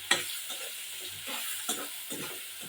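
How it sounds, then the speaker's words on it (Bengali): Onions fry in a pan with a constant sizzle, broken by repeated stirring strokes that scrape and clatter at a steady, unhurried rhythm. "এখন পেঁয়াজ ভেজে নিচ্ছি।"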